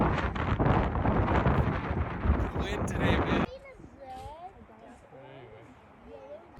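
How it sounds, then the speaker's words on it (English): Strong wind buffets a handheld microphone outdoors at Yellowstone, a loud, broadband rumble for about three and a half seconds that drops abruptly to quieter breezy noise, with a voice talking briefly in the calmer second half. "Wind today, man."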